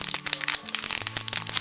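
Sticky tape peeling and crackling off a package during an unboxing, a dense run of close, irregular crinkly cracks and rips over about two seconds.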